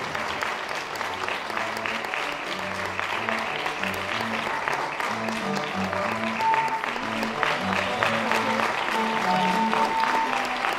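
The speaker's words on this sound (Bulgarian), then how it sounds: "Аплодисменти!" Audience applause at a beauty pageant in Stara Zagora, a steady round of clapping from a crowd at moderate distance, lasting throughout without pause.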